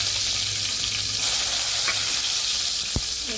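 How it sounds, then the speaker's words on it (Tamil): Fennel seeds and two green chilies sizzling in a little oil in a kadai, a steady loud frying hiss with a brief stir near the end. "கொஞ்சமாக எண்ணெய் ஊற்றிக்கலாம். கொஞ்சம் சோம்பு, 2 பச்சை"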